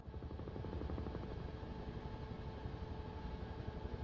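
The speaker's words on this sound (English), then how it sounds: "let's jump back in the helicopter" A video game helicopter's rotor thumps steadily over a continuous engine drone, constant and close for the whole stretch.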